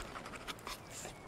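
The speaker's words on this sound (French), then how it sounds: "On peut avoir un clébard." Dog companion in the video game Remnant II panting, quick soft rhythmic breaths at low volume, heard briefly with no talk.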